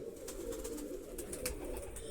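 Pigeons kept by a hobbyist, among them a female, give a soft, low cooing that runs steadily under faint background noise, with no voices.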